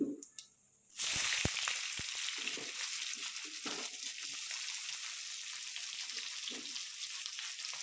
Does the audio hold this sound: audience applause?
no